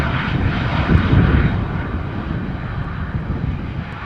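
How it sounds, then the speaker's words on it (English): A Lufthansa CRJ jet landing in a crosswind at Amsterdam Schiphol after a storm gives a steady, loud engine roar with wind noise, swelling near the start and then holding broad and even. "Lufthansa CRJ just landed."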